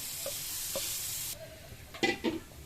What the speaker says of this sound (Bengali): প্রথমে একটু বাটার দিয়ে তারপর রসুন কুচি দিয়ে দিলাম। এটা কিছুক্ষণ নাড়তে হবে।